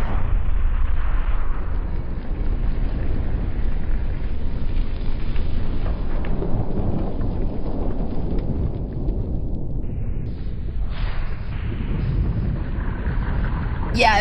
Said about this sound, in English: That back blast though.